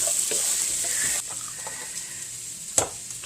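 O'Brien potatoes fry and sizzle steadily in a pan with a broad hiss while a utensil stirs and scrapes them, the sizzle dropping a little partway through and a sharp clatter near the end.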